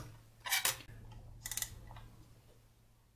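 Spring-loaded viewfinder hood of a Lubitel-166B medium-format twin-lens camera snapping open: two quick, close mechanical clicks, then a softer rattle, heard alone.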